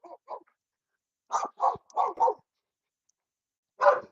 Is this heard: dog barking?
yes